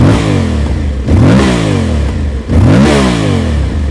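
An Aprilia Tuareg 660 motorcycle with a 659 cc two-cylinder engine is revved hard three times, each rough, loud blip rising in pitch then falling back to idle, close up and without talk.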